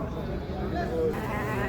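Sheep at the Bishkek livestock market bleat once or twice, close by, under nearby talk and general crowd murmur.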